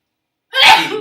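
A single sharp human sneeze bursts out after half a second of silence, loud and close, with a short breathy tail.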